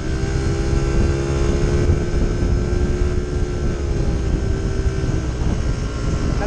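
Yamaha Mio i 125 scooter fitted with a 28mm throttle body and 11-gram rollers on a stock pulley, accelerating with a steady, loud engine drone and rising tonal whine throughout.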